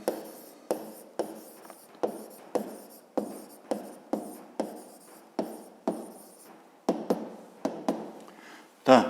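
Pen or chalk writing out a fifth-grade geometry answer, a close series of about sixteen short, evenly spaced strokes and taps with a final louder knock.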